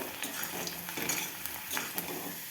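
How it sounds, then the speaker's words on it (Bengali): Carrots fry lightly in a pan: a soft, close sizzle broken by quick clinks and scrapes of a spatula stirring, with no talking. "আমি গাজরটা ভাজবো গাজরটা খুব বেশি ভাজবো না কারণ কালো হয়ে যাবে হালকা একটু ভেজে তুলে নেব"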